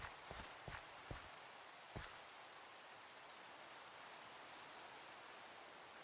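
Steady rain pours down in the video game The Citadel's Low Town, a broad even hiss holding throughout, with a few sharp, brief footstep-like thuds near the start.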